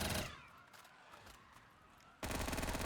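SMG fire in Black Ops 3 custom zombies on the Vokzal Minecraft-style map. A loud rapid burst opens the clip, then a quieter gap, then another sharp burst at the end.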